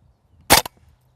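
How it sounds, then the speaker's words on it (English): A WE ModK 16 blowback airsoft rifle fires on semi-auto, giving one sharp, loud crack with a short bolt-clack echo right after, alone against a quiet background. "we've got to put it on semi in order to pull the bolt back. And now we're good to fire"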